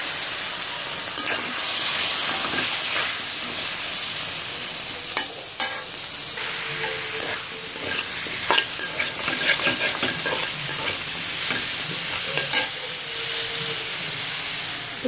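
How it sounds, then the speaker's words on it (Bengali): Vegetables for a rui fish curry sautéing in a pan with spices, a steady sizzle and frying hiss under repeated stirring scrapes, close and continuous with no talk. "ভালো করে কষিয়ে নিতে হবে সবজিটাকে।"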